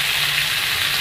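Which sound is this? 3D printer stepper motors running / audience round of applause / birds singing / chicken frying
chicken frying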